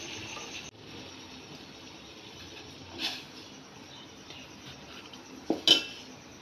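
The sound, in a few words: stirring flour dough in pot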